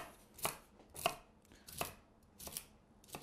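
A knife chops through broccoli on a board in five or six crisp strokes, spaced about half a second apart, close and fairly quiet.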